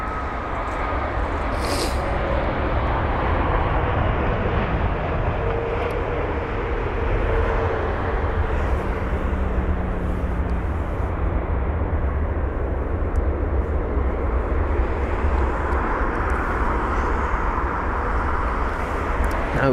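A Boeing 787 airliner at London Heathrow, a broad steady roar of jet engines and rushing air held at even loudness throughout, with a faint tonal whine drifting through the low end and no talk.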